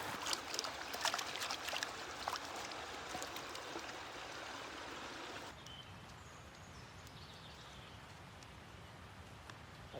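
Water splashes and trickles as a camping cookware pot is rinsed outdoors at a campground, with steady watery patter that drops quieter partway through; no one speaks.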